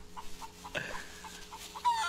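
Chickens cluck in a farm area during a SCUM game event, giving several short, evenly spaced clucks at moderate volume with a brief louder squawk partway through and no talk.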